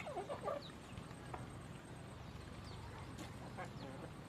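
Country chickens (native village fowl) cluck in a farm setting, with a few short clucks near the start and faint calls later over a constant low background hum.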